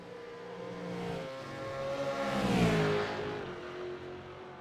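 V8 race cars at Bathurst in an East Coast V8s round roar past, one engine swelling to a loud peak mid-pass then fading, with other cars droning steadily underneath.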